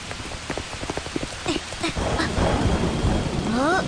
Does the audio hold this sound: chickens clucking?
no